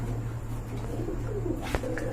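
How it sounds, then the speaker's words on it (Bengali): A pair of Sherma pigeons coos low and throaty against a steady background hum, with a short sharp knock partway through; the cooing sounds close and moderately quiet. "আরেক জোড়া কবুতর দেখতে পাচ্ছেন ভাই"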